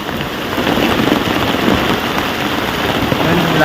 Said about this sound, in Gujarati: જોરદાર વરસાદ ચાલુ થઈ ગયો પવન ફૂલ પવન સાથે